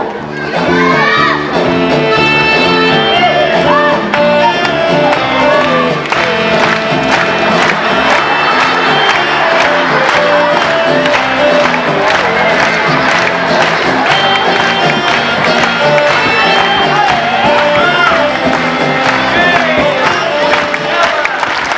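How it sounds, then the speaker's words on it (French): Audience clapping and cheering at a 1991 Christmas works-council party after a lambada performance, with continuous music playing loudly throughout and shouts rising over it. "Ah oui, vous pouvez les applaudir, hein, cette lambada est très fort."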